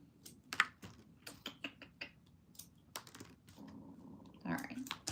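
Craft pieces trimmed with a cutter, a run of short sharp snips and clicks at close range, irregular and fairly quiet, with faint shuffling between cuts.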